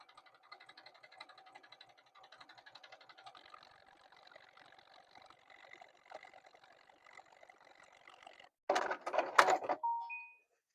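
A sewing machine stitches a quilt-as-you-go star block, its needle chattering in a fast, steady whir for several seconds before a louder, rougher burst of handling noise at the end.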